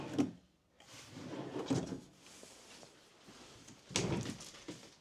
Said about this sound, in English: And again, soft close drawers one more time.